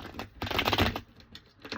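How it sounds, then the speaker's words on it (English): A deck of playing cards is shuffled up close with a rapid burst of riffling and flicking clicks. Softer handling taps follow, and no one speaks. "let me go ahead, do my little pre-shuffle for you one more time"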